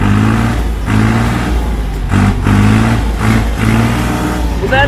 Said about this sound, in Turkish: Evet traktörü çalıştırdık çok şükür.